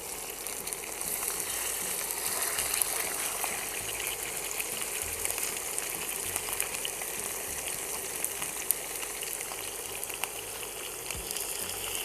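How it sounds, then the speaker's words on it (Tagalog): Fish frying skin side down in hot oil gives a steady, dense sizzle that holds evenly throughout, close and fairly loud with faint crackles and no talking. "we're going to pan fry skin side down first sa hot oil"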